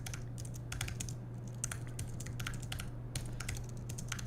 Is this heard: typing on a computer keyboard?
yes